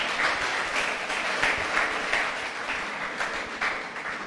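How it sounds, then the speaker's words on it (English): Hosts at a university tourism event applaud their guests with steady, moderately loud clapping from a crowd, fading slightly toward the end with no talking over it. "Haya, wenyeji pigeni wageni makofi."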